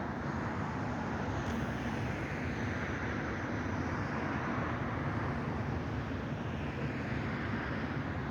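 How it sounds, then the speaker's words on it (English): A steady, broad roar of an airplane passing overhead near Logan Airport, heard from a South Boston beach, continuous and fairly loud throughout with no break. "Here comes a plane."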